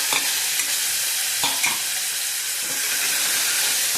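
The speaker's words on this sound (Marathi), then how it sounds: "टोमॅटो घालायचे" Tomatoes fry in hot oil with curry leaves and chilli for a green bean bhaji, a bright continuous sizzle with several sharp scrapes of a spoon stirring the pan, close and loud, no talking.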